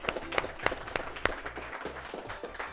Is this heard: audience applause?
yes